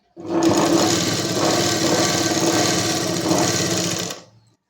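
A sewing machine stitches a kurti collar in one continuous run, a loud, close, steady mechanical whirr lasting about four seconds before stopping abruptly.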